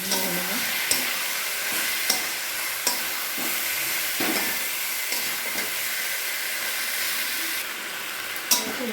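Chicken pieces fry in hot oil with cooked-down spices, giving a steady bright sizzle and hiss, close and continuous, broken by regular clinks and scrapes from stirring.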